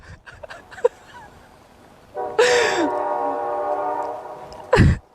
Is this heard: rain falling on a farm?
no